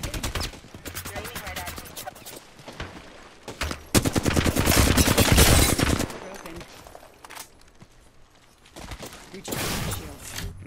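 Gunfire from Apex Legends, with rapid automatic bursts and repeated shots coming in several loud clusters and pauses between them, close and intense, with some voices in the mix.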